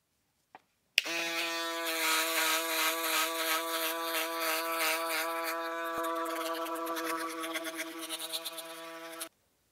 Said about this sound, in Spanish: Ahora vamos a pasar la afeitadora y vamos a ver el resultado.